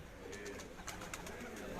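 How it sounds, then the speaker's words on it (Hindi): Pigeons coo softly on a rooftop while being fed grain, a faint cluster of repeated low throaty calls with some light fluttering and a voice murmuring in the background. "अपने कबूतरों को खुराक दे रहे हैं जी"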